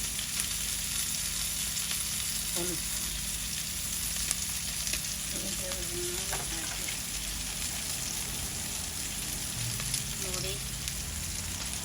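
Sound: onions frying with turmeric and chili

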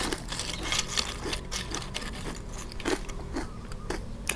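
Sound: crunching on crispy baked vegetables

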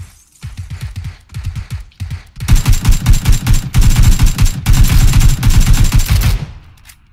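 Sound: automatic gunfire in a video game

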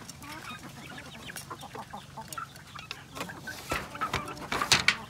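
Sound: chickens (breeders) clucking and pecking feed

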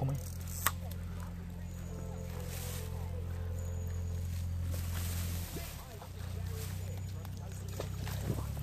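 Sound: boat passing on the River Avon

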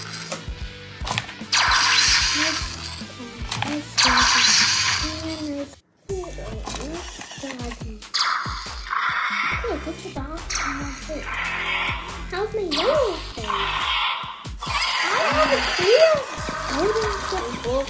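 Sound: WowWee Untamed Legends toy dragon shrieking and flapping wings

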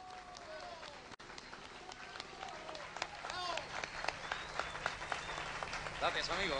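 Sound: audience applause welcoming Juan Ramon

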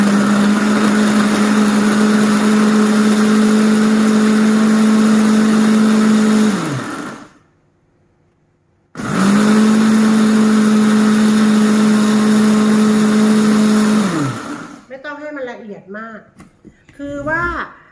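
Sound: blender blending seafood dipping sauce

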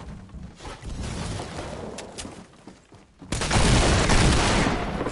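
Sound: gunfire in the video game Fortnite

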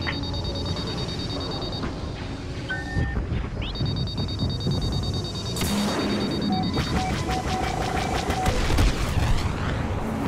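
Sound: homing missile incoming and exploding in Star Wars Battlefront video game

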